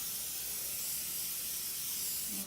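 A continuous close hiss of aerosol cooking spray sprayed steadily for a couple of seconds onto two 9x5 baking pans, with no talking.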